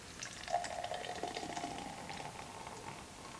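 Sweetwater H.A.Z.Y IPA beer pouring into a glass with a bubbly, fizzing rush that settles into a soft hiss, close and fairly quiet.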